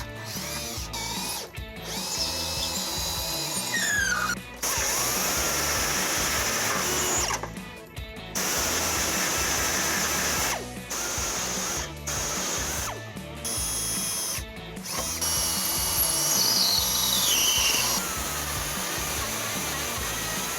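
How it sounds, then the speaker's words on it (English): A power drill with a 3/16 bit bores a hole for a trailer hitch on a 2014 Toyota Camry, whirring loudly in several bursts separated by short pauses. "I'm going to start off with a 3/16 drill bit and then step my way up to make our hole as big as we"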